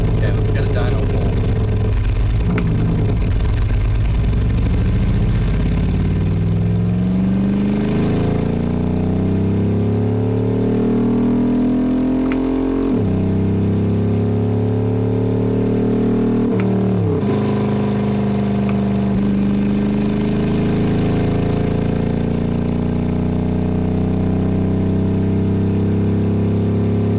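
A car engine runs hard on a dynamometer during a dyno pull. The loud, continuous drone climbs in pitch, drops back suddenly and climbs again several times.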